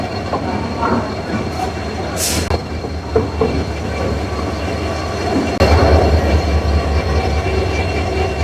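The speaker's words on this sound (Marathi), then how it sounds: "फायनली ट्रेन अराईव्ह झाली आहे" A train rolls into Kolhapur railway station with a loud, steady rumble, rhythmic wheel clatter and a brief high squeal of brakes, growing heavier toward the end.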